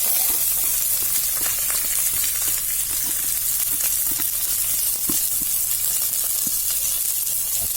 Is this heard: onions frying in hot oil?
yes